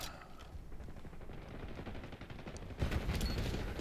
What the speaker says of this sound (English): Shooting across the map.